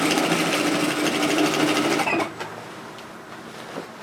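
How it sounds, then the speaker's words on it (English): Sewing machine edge stitching all around the top of an unlined reusable shopping tote with flat straps, a loud steady close whir for about two seconds, then stopping, leaving a faint quiet room with small clicks. "So we're just going to edge stitch like we did before, all around the top of the bag"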